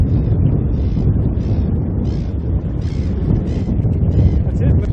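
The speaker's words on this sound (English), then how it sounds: "It's been really windy today" Gusty wind buffets the microphone at a fishing spot by the water in Melbourne, a loud continuous low rumble and roar with uneven surges throughout.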